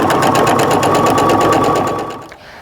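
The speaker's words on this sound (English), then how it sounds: "I'm going to just go ahead and sew" A sewing machine stitches a quilt block seam for a log cabin and star quilt, a steady fast mechanical whir with regular needle clatter, close and loud, running alone before slowing to a stop near the end.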